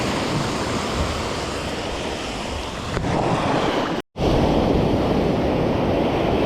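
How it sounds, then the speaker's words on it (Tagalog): Big ocean waves roll and break out at sea, a loud, continuous rushing surf mixed with heavy wind buffeting the microphone, broken by one brief dropout. "Laki na alon guys"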